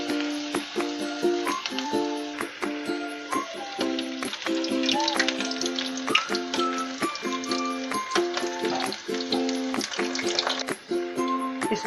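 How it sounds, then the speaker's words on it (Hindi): Chinese pakoras fry in hot oil in a pan with a dense, steady sizzle and crackle that runs without a break throughout, close and fairly loud, while bright ringing tones sound over the top. "इसको हम अच्छे से फ्राई कर लेंगे"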